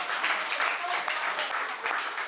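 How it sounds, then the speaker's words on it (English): A studio crew applauds on a cooking show as cream is stirred into a creamy tomato soup: a steady, dense wash of clapping that runs close and fairly loud for a couple of seconds. "I think there's a clap for a cream."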